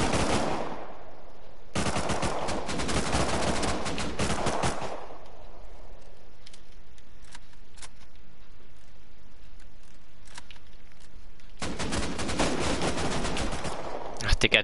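Loud bursts of automatic AK rifle fire in the survival video game Rust, long rapid volleys starting and stopping with a quieter stretch in the middle before the shooting resumes.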